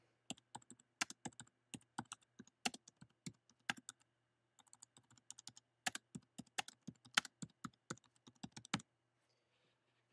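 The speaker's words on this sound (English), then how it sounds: "So to quickly type that in." Close, crisp keystrokes on a computer keyboard come in quick irregular bursts with short pauses, ending in a brief quiet stretch near the end.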